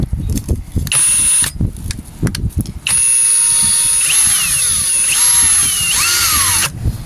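A power tool whines loudly and up close as it grinds a groove off a bushing, running in bursts with a rising, shifting pitch and scraping contact noise, plus intermittent clatter between the runs.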